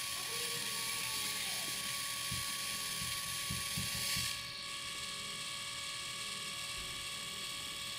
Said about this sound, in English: And this is printing.